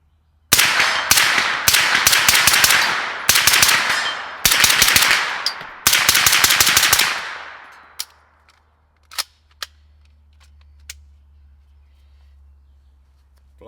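Zenith pistol firing 115 grain Monarch brass-case ammunition: four fast strings of loud, sharp shots, then a few isolated cracks or clinks over a low steady hum.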